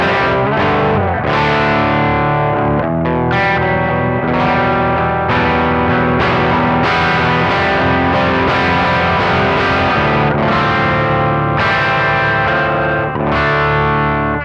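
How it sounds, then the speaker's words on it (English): An electric guitar through a Fuel Injector pedal set to soft overdrive plays continuous strummed chords and ringing notes, warm and slightly gritty, with a touch of reverb and no talking. "Just right amount of gain for that soft OD tone"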